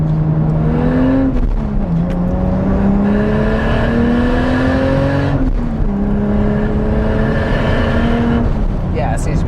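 A loud, close turbocharged engine from a Toyota Supra MKIV or Nissan Skyline GT-R R32 revving repeatedly, pitch climbing steadily through gears with brief drops between, under a constant roaring whir; boost cutting at about 8 PSI.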